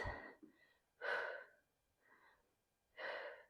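Heavy breathing during a back, biceps and glutes workout: three strong, close exhalations alternate with softer inhales in a slow, regular rhythm, with no talk over them.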